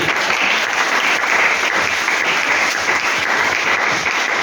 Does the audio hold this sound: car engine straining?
no